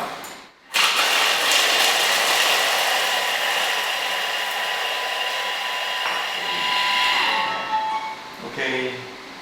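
A Thermomix food processor mixing mini cheesecake batter runs at speed 5 with a high, even whir that starts abruptly after a brief pause and holds loud for about fifteen seconds, easing slightly near the end.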